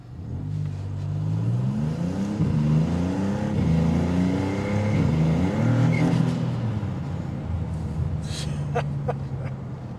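A 2025 Maserati MC20 Cielo accelerates hard, the engine note climbing and shifting through rising revs, loud and close from inside the car, then settling to a steady drone.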